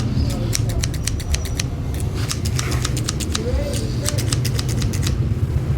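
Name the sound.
scissors cutting car seat cover material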